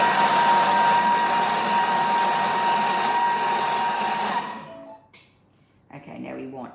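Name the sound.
Thermomix mashing bananas at speed 6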